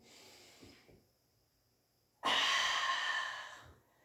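Breathing during a Pilates exercise: a soft exhale, a pause, then a loud, long breath close to the microphone that fades out.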